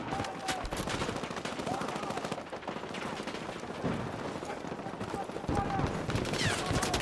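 Sniper rifle shots and gunfire from the Battlefield 6 video game, a dense continuous battle din of rapid shots and loud cracks throughout, with game noise and voice chatter mixed in.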